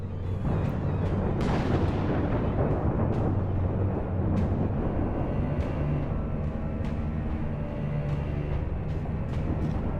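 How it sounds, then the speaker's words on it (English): Teapot cannon in Alice: Madness Returns firing tea grenades, with a dense rumbling barrage of booming blasts and sharp cracks, loud and continuous. "Shoots devastating tea grenades."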